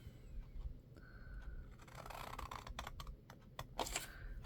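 Scissors snip through a small scrap of designer paper in a quiet crafting space, with a few sharp, crisp cuts clustered close together near the end.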